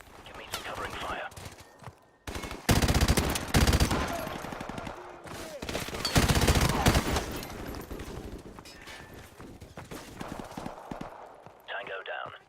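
Gunfire from a firefight in Call of Duty: Modern Warfare Remastered, with loud bursts of rapid shots around the three- and six-second marks and scattered sharper reports between, mixed with game effects and voices.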